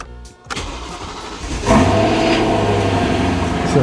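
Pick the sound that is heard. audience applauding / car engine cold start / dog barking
car engine cold start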